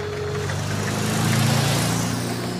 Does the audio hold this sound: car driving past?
yes